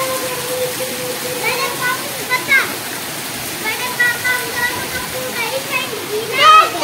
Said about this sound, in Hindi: कितना तेज निकल रहा है पानी।